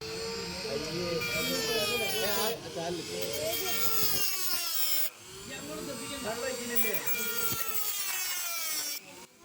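A fire rescue team's powered cutter grinds through a ring stuck on a student's finger, a loud, continuous whining drone that holds steady for several seconds. Voices are heard faintly underneath.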